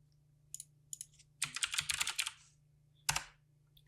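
Typing on a computer keyboard in a quiet room: a few isolated key taps, then a quick burst of rapid clicking, a pause, and another short cluster of keystrokes, close and fairly soft.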